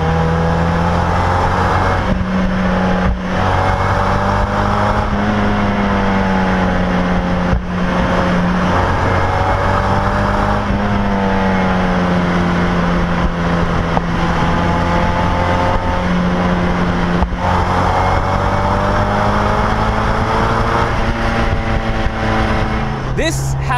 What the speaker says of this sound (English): Has a more kind of resonant bark to it.